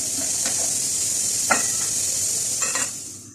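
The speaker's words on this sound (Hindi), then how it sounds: "दूसरी तरफ जो आपको वीडियो में आवाज़ आ रही है वो प्रेशर कुकर की आवाज़ है।" A pressure cooker cooking dal gives off a steady, fairly loud hiss of escaping steam, broken by a few faint clinks.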